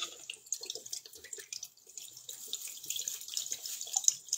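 A kitchen tap runs close by with a thin, splashing trickle that patters and drips unevenly into a sink for several seconds, with no voices.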